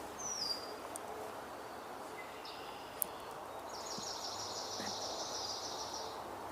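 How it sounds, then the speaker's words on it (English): A swamp sparrow sings a steady trill from some distance, rising faintly above quiet outdoor ambience with scattered soft chirps from other birds. "I believe that was a swamp sparrow."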